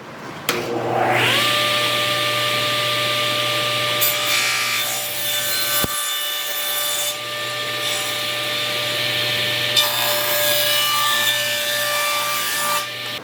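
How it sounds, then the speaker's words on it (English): A table saw spins up and cuts a wooden cutting board to length, with a steady high whine and a loud continuous cut, a brief dip midway, then the blade running on alone. "Now that we're at a table saw, we're going to cut a cutting board down to our proper lengths."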